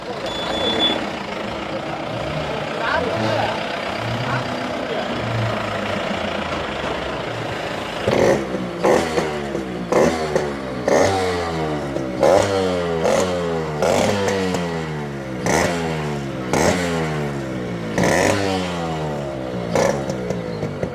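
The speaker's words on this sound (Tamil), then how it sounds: "ப்ரோ பைக்கை ஸ்டார்ட் பண்ணி காமிச்சிருங்களா?" A custom-built, fully modified Yamaha RX 135 five-speed motorcycle idles with a low rumble, then revs up sharply again and again in short, rising bursts close by.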